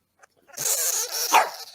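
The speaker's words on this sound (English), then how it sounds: "the dog's pissed off" A dog growls and snarls in an angry outburst, close and loud, a short continuous burst of agitated vocalizing rising to a sharper yelp near the end.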